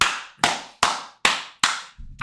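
Five slow, sharp hand claps ring out one by one at a steady, deliberate pace, each a crisp close-up smack with a short decay and no other sound around them.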